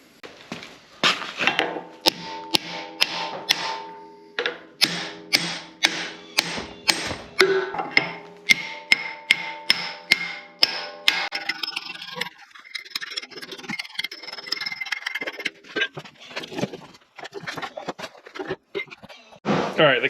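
Hammering to drive the pin out of a JD70 excavator in a shop: a long series of sharp metallic strikes in bursts, some quick and some spaced, ringing close and loud, then softer knocks and scraping.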